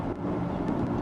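Artificial driving sound of a Mercedes-AMG EQS 53 4Matic+ electric car in Balance sound mode, a steady low synthetic hum with soft tonal layers, continuous and moderately loud throughout.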